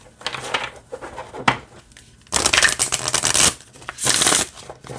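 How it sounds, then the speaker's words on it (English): Oracle cards being shuffled close up: a few soft flicks, then two longer bursts of rapid riffling, with quiet gaps between. "Let's see how it shuffles."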